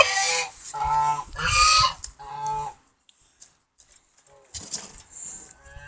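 Turkeys on a home farm, with geese kept nearby: several loud, close gobbling and honking calls in quick bursts, then a quiet pause before fainter calls and rustling return.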